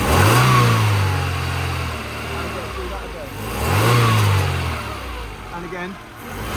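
A Mercedes-Benz W202 C180 Esprit with exhaust trouble, its engine blipped in two sharp revs that rise and drop back toward idle, close and loud, with a voice talking between them.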